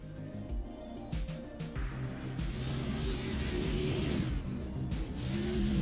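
A custom Mazda RX-7 drift car revs hard during qualifying at Road Atlanta, its engine note rising and falling as it pulls through the turns. The sound is distant and fairly faint, steady and continuous.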